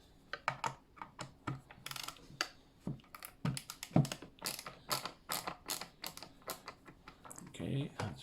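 A Torx VT10 bit turning a screw out of a Philips Respironics DreamStation CPAP, a quick series of sharp ratcheting clicks and taps close by, irregular and crisp throughout.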